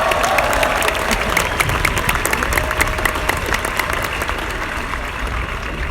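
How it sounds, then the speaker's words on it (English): Steady applause from a large audience at a car company event, loud and sustained for several seconds with a faint crowd murmur and a few cheers mixed in. "Give yourselves a round of applause"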